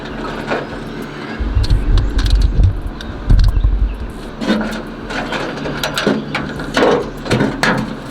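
Socket ratchet turning a 13 bolt while working on a fender, giving quick clicking pawl bursts in uneven runs, close and fairly loud, with no talking.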